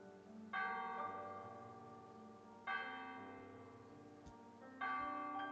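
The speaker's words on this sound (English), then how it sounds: "Bells of the church." Church bells in the video game The Last Door ring out three separate times, each strike clear and resonant and then slowly fading, with quiet gaps between.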